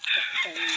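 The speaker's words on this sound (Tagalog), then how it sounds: "May manukan pa pala sila Rerex" Chickens clucking at a farm chicken coop, a short close burst of squawking fowl calls heard on their own.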